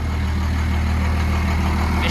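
A Cummins diesel in a 1940 hotrod truck idles close by, a loud, steady low rumble with a mechanical clatter running unbroken throughout, no talking.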